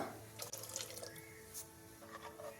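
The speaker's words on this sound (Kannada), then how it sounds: "ನೀರೇನಾದರೂ ಎಕ್ಸ್ಟ್ರಾ ಸ್ವಲ್ಪ ಬೇಕು ಅನಿಸಿದ್ರೆ ಇನ್ನೊಂದು ಸ್ವಲ್ಪ ನೀರು ಹಾಕೊಬೋದು" Water pours into sprouted bean upsaru in a pressure cooker: a quiet, continuous trickling splash with a few brief higher splatters, close by and alone.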